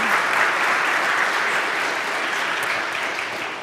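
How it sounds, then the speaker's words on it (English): A conference audience gives a warm round of applause for the EUKI project representatives. Dense, steady clapping from a large crowd fills the room and fades slightly toward the end. "let's have a warm round of applause for the representatives of our EUKI success stories"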